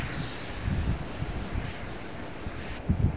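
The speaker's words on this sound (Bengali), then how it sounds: "এই যে পেঁয়াজটা ভালো করে ভেজে তারপর আমি ডালটা বাগার দেব" Onion and garlic fry together in hot oil in a pan for dal, giving a steady broadband sizzle with soft low bubbling pops that rise slightly near the end.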